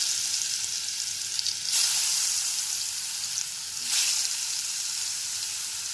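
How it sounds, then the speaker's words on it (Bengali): Potato pieces coated with salt and turmeric fry in hot mustard oil over a low-to-medium flame, giving a steady close sizzle that swells briefly twice, with no talking. "লবণ ও হলুদ মাখানো আলুর টুকরোগুলোকে ভেজে নেব"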